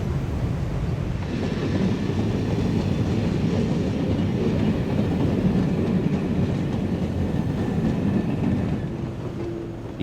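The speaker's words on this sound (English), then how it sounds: "an IC electric train enters on the opposite side of the platform." An IC electric passenger train pulls into a station platform, giving a steady, loud rolling rumble with wheel clatter that holds throughout and fades slightly at the end, with no voices.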